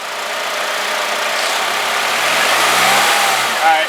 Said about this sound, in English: it wouldn't be too much trouble to get the engine started so that we could get on our way